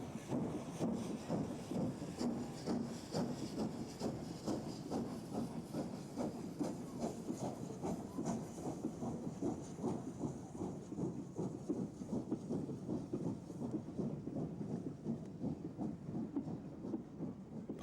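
Southern Railways steam locomotive 460 Sir Lamiel working a steam special from Waterloo toward Southampton Docks and Portsmouth, a continuous rhythmic chuffing with hiss and rolling rail noise, steady and moderately distant, no voices.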